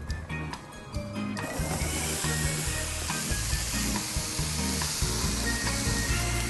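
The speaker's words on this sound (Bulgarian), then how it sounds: "И когато котлона се нагорещи максимално, го слагам вътре, за да го запържа" Food sizzles loudly in a pan heated on a stovetop to maximum, a dense continuous hiss and crackle that starts abruptly and keeps on steadily.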